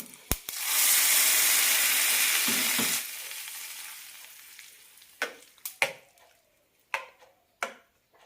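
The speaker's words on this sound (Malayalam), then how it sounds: "കടുകും കറിവേപ്പിലയും തളിച്ചിടാം" Mustard seeds and curry leaves hit hot oil for a pumpkin pachadi tempering. A loud burst of sizzling lasts about two seconds, then fades into quieter hissing broken by sharp, scattered pops.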